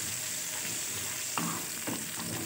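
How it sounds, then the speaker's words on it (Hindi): Garlic frying in a hot tadka for dal makhani, a steady close crackling sizzle with a couple of brief stirring scrapes partway through. "ये जब थोड़ा सा भुन जाएगा ना लहसुन, तो फिर उसके बाद हम इसमें कसूरी मेथी को डाल देंगे।"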